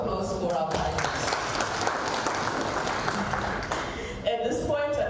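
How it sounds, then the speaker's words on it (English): Conference audience applauding panelists after an economic policy debate, a steady wash of many hands clapping in a room, with speech breaking in at the start and again near the end. "a round of applause for our panelists"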